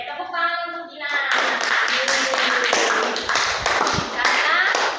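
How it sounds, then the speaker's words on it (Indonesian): A classroom applauds a student named Gina after her talk on environmental pollution: a burst of many hands clapping steadily for about four seconds, following a brief spoken phrase at the start. "tepuk tangan untuk Gina"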